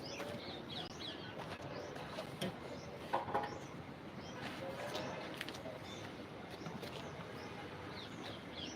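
Pigeons coo and chirp faintly in the background, with soft wing flaps amid quiet outdoor ambience.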